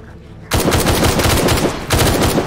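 Automatic gunfire bursts loudly in the video game DayZ, a silent beat giving way to a sustained rapid volley that dips briefly and then resumes at full intensity.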